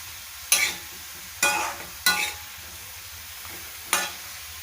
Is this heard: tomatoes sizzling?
yes